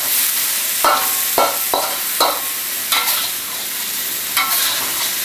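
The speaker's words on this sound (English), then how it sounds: "You let it brown, you let the chicken meat cook a little bit as you're stirring it." Chicken meat stir-frying in a hot wok for lo mein, a steady loud sizzle broken by repeated scraping strokes of the spatula at an irregular pace, close and without talk.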